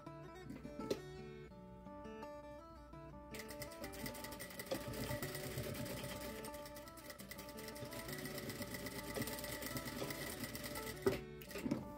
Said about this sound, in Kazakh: тюрбаның шетімен бірдей етіп, осы жерді тігіп аламыз